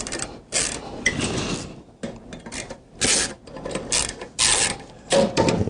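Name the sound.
ratchet with 8mm socket loosening captive screws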